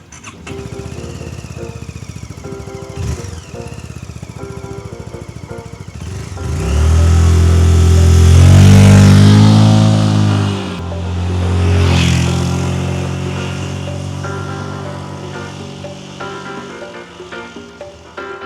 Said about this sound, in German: Ich fahre jetzt einfach mal los, Helm auf und ab geht's.